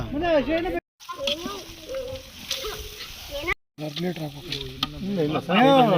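Potato curry (aloo palya) sizzles steadily in a pan, cooked outdoors near a farm, while people talk loudly over it almost throughout.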